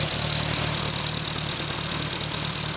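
A small Hercules four-cylinder engine on a WWII Hobart Brothers generator idles steadily with a low, even rumble and faint knocking pulse, running continuously at close range.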